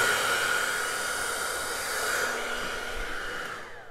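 Hair dryer blowing steadily across wet acrylic paint on a canvas during an abstract cup pour, a loud, continuous broadband whoosh that holds for the whole span and eases slightly toward the end.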